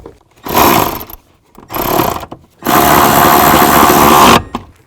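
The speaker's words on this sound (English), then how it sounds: "So get these started and then snug up those bolts." A power tool runs on bracket bolts on a 2000-2006 Chevy Tahoe: three loud close whirring bursts, the first two short and the last held longer, separated by brief pauses.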